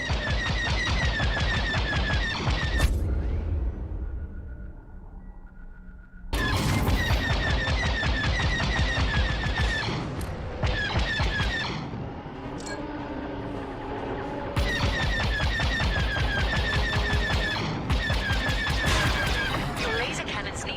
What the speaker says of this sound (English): Your laser cannons need to recharge.